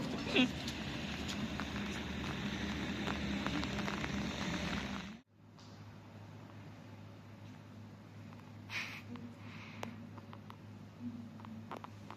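Rain falls steadily in the streets of Venice, a soft, continuous hiss that cuts off abruptly partway through, leaving a quieter background hum with faint scattered sounds.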